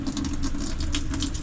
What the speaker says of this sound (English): have water come out through a little sprinkler system there